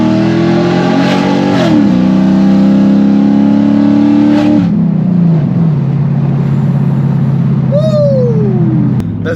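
A straight-piped car exhaust roars loud and close through a tunnel, revving hard with rising harmonics and then easing off into a steady drone as the car cruises.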